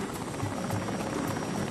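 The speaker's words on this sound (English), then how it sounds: "the helicopter lifts off from Santa Ana" Helicopter departing Santa Ana on a morning flight, a steady, loud broadband rotor and engine roar with a faint pulsing beat running evenly throughout.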